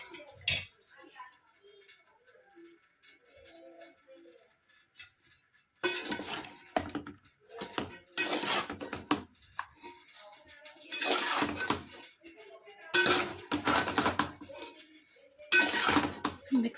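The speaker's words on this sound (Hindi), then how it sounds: "बिरयानी मेरी रेडी हो गई है, तो टाइम है इसे मिक्स करने का।" Biryani is stirred in a pot, with bursts of scraping and clinking from a utensil against metal between quieter gaps, while someone talks at times.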